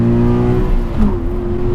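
Engine of a 2020 Toyota 86 TRD Handling Package revving, a steady, close, loud mechanical drone with layered harmonics holding roughly even throughout, no voices.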